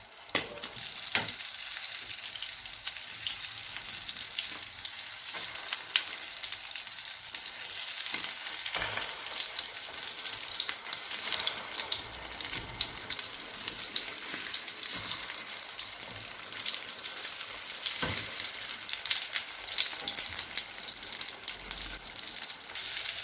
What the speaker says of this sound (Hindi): इसके अंदर कबाब को डिप कर लेंगे और अब इन्हें फ्राई कर लेंगे। मीडियम टू लो फ्लेम पर इन्हें फ्राई करेंगे।